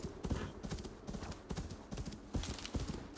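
Horse hooves clip-clop in a steady trotting rhythm across icy, snowy ground in Assassin's Creed Valhalla, a close, moderately loud, repeating pattern of muffled thuds.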